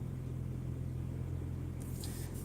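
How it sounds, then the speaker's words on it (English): A car engine idles steadily with a low, constant rumble, close and even throughout, with a faint higher hiss near the end and no talk. "Knock off the engine, save some petrol"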